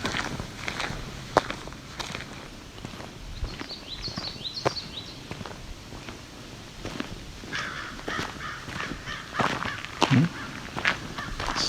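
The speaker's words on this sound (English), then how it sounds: "Stirred up some crows." Crows cawing outdoors near a lake, a few harsh calls at a middle distance mixed with footsteps crunching along a trail, steady rustling underneath and no talk.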